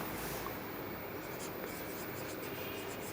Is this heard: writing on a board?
yes